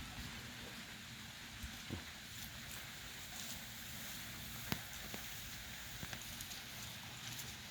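Steady rain from a storm falls outdoors in rural Savannakhet, Laos, a constant soft hiss with occasional louder drips and taps scattered through it.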